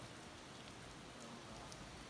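Rain falls steadily in the morning, a soft, even hiss of drops that continues unbroken and quiet with no voices.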